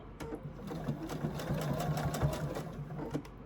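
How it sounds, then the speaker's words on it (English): A sewing machine runs steadily at close range as it stitches the corner of a quilted placemat, giving a fast even mechanical chatter with a low hum beneath and no talking. "One more time under the needle for the corner"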